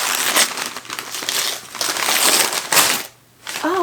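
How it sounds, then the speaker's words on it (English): Wrapping paper being torn and crumpled off a book, a continuous loud crinkling and tearing close by, with a brief pause near the end. "we're gonna unwrap this, see what book it is and why I wanted to read it"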